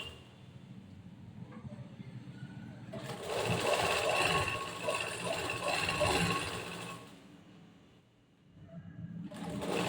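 A sewing machine runs steadily for several seconds while stitching lining fabric onto a blouse sleeve, starting and stopping with a steady mechanical whir, and someone talks quietly around it.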